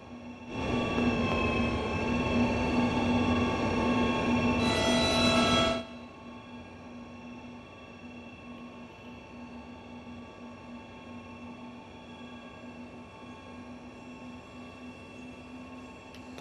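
A BR187 electric locomotive in Train Sim World 3 sits humming with a steady tonal drone, while a loud broadband rush of air or blower noise runs for several seconds and then cuts off, leaving the quieter hum.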